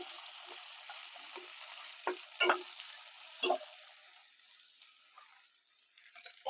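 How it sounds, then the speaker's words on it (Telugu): Potato and ginger pieces frying in a pan, a soft continuous hiss with a few sharp pops and stirring taps, fairly quiet and fading slightly toward the end, no voices. "బంగాళదుంప ముక్కలు, బంగాళదుంపలు కొంచెం వేగే కదండి."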